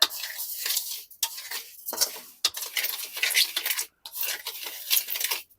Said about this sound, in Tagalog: Halo lang ng halo